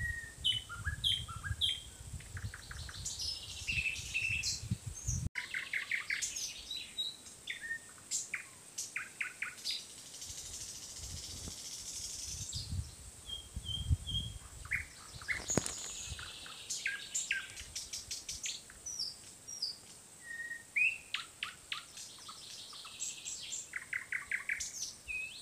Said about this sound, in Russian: где-то здесь в листве деревьев спрятался соловей и напевает